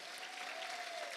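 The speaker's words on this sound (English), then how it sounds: "Let's give a round of applause for Kelly Robinson." Steady audience applause at a school district's Teacher of the Year celebration honoring a teacher, continuous and even throughout, with a faint sustained tone running beneath the clapping.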